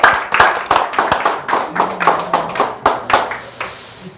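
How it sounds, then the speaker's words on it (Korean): An audience claps to welcome a speaker at a lecture, a sparse rhythmic round of claps from a small group, close and fairly loud, thinning toward the end. "박수로 환영해 주세요."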